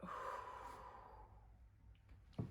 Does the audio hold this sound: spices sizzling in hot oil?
no